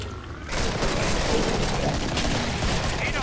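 Shotgun blasts and rapid gunfire erupt in the Killing Floor co-op shooter, a dense, loud, continuous barrage after a brief quieter opening.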